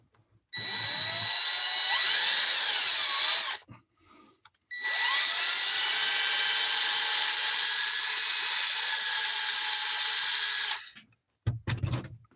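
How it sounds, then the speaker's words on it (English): A high-pitched electric pin drill whines steadily for a few seconds, stops briefly, then runs again in a longer sustained burst, close and loud. "This is a pin drill."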